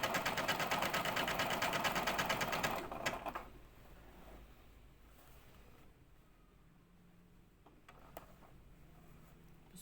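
A home sewing machine stitches a repair on burnt or torn clothing, running in a loud, fast, steady buzz for about three seconds before stopping and leaving a quiet room.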